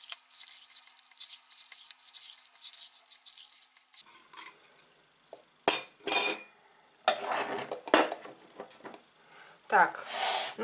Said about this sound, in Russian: Ну, короче, все вываливаем и все перемешиваем в однородную массу.